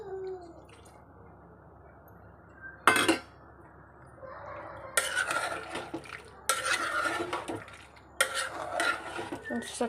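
Shatli goes into a pot of suvarna gadde (elephant foot yam) sambar, followed by a sharp metallic clank and bursts of scraping, clinking spoon strokes against the pot amid a quiet background.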